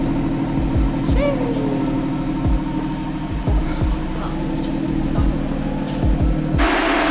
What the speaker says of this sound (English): we're gonna take it up on the dyno and see what it makes now